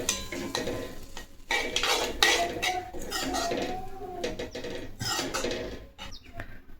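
A spoon scrapes and clinks against a pan while cooked vegetables are mixed into pav bhaji masala, giving irregular close clatters and stirring strokes over a faint background sizzle.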